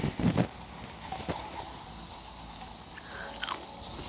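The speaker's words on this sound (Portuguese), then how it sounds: "tô mastigando aqui, é por causa da pipoca que fizeram aqui" Popcorn being chewed close to the mic, crunchy bites clustered at the start and a few sharper crunches later, with a quiet room in between.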